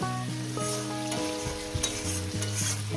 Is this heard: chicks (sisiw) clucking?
no